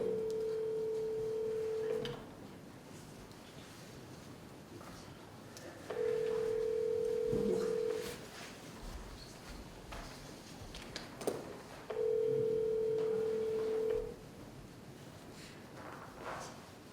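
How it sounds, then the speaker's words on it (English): A telephone rings three times through a speakerphone during a city council meeting, each steady two-second tone separated by roughly four-second pauses, with room noise and faint rustling between rings. "let's get him on the phone and find out"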